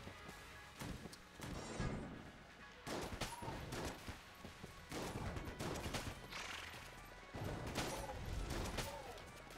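Shotgun blasts in Enter the Gungeon, a quick irregular series of sharp bursts and cracks scattered across the clip, each firing several pellets, fairly faint amid game effects.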